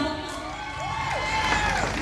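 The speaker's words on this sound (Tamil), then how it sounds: "சூப்பரா இருக்கறவங்க நல்ல ஒரு கைத்தட்டல் கொடுங்க பார்க்கலாம்." A crowd at an outdoor music event in Kilinochchi cheers and claps, a steady wash of applause and raised voices with a few whoops rising above it.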